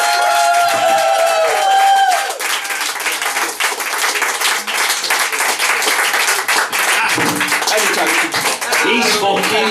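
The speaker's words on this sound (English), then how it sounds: "Big round of applause for Dave." Comedy club audience applauding and cheering, dense clapping that fills the room for most of the stretch and carries on steadily to the end.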